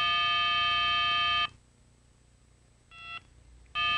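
Keypad beeps from a 1994 Motorola cellular portable phone while dialing, a sustained electronic tone that cuts off, then two short beeps after a pause, close and clean with a quiet background.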